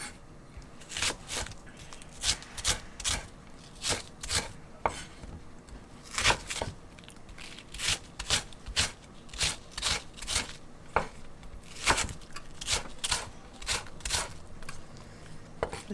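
A knife cuts the white part of a green onion into thin slices on a board, making a long series of crisp, fairly regular chopping taps heard close up with no talking.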